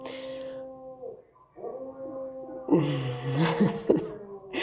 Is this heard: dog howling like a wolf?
yes